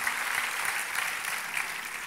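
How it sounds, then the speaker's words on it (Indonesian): A church congregation applauds during a sermon, a dense, steady wash of many hands clapping at once that holds at full strength throughout with no voices on top. "Kasih tepuk tangannya yang paling meriah buat Tuhan kita."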